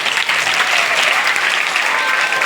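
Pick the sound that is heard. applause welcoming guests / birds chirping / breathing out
applause welcoming guests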